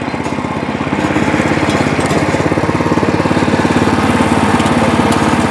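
A Weima WMX5 walk-behind rotary tiller with an active cutter runs in second gear, its engine putting out a loud, steady, rapidly pulsing chug that swells slightly after the first second.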